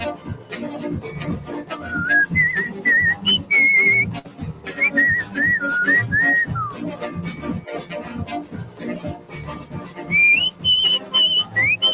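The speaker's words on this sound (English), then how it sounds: "The boy can definitely whistle." A person whistling a wandering melody in bursts of sliding notes, with background voices and outdoor bustle underneath.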